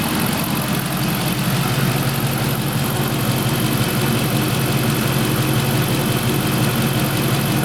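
Dodge Ram 5.7L V8 idling after a water pump replacement with an airlocked cooling system, a steady close engine hum and rumble holding constant throughout with no talk over it.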